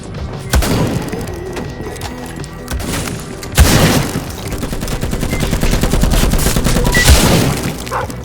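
A double barrel shotgun fires in the first-person shooter Vladik Brutal, a few loud booming blasts spaced seconds apart over dense game noise, rapid mechanical clatter and impacts, with no talking.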